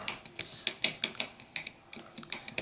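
A Shimano Alivio bicycle trigger shifter clicked repeatedly through the gears, a quick string of crisp mechanical ratcheting clicks heard close and alone, several per second in an uneven rhythm.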